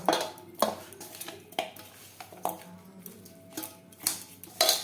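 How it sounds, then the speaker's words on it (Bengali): Fish being hand-mixed with salt, turmeric and red chili powder for a bhola fish curry, heard as repeated sharp clinks and scrapes against a metal dish with short pauses between, fairly close and moderately loud, with no talking. "স্বাদ মতো লবণ লবণ হলুদ ও লাল লঙ্কার গুঁড়ো দিয়ে মাছ বেশ ভালো করে মেখে নেব"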